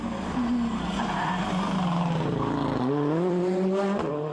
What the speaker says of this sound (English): this half spin costs him a lot of time